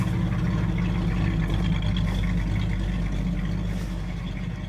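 A 1937 Ford engine fitted with a roller cam idles steadily and close by. The low, even rumble carries on alone with no voices.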